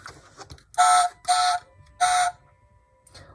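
A Bumblebee Chevrolet Camaro 1/32 diecast toy car sounds its alarm, three short electronic beeping bursts with brief gaps, loud and close, against a quiet background.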